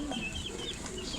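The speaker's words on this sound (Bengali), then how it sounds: "এগুলো কি মুরগি ভাই?" Chickens cluck and cheep at a busy bird market in Tongi, faint short calls over a dense background murmur.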